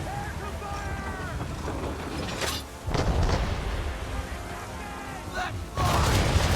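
Ship cannons firing in the Assassin's Creed 3 video game, two loud booming volleys several seconds apart over a constant bed of sea and vessel noise, with voices shouting orders.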